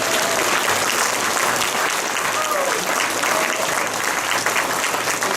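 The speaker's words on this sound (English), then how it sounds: "Please give a massive round of applause for our headliner, Dr. Jeff Meldrum." A large audience gives a headliner steady, loud, sustained applause with some crowd cheering mixed in, dense and unbroken throughout.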